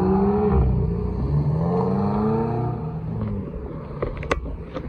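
Lotus sports cars, including Exiges, accelerating away from a supercar show, with loud rising engine notes sweeping through the gears close by, then fading into the distance amid crowd and traffic noise.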